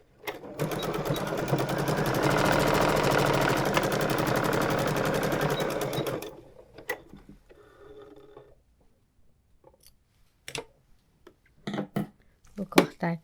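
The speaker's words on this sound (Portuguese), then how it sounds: "vamos costurar o acabamento assim, certo? Do mesmo jeito." A sewing machine stitches bias binding onto a patchwork wallet, running loud and steady for about six seconds, then stops, followed by a few brief clicks and taps with faint speech.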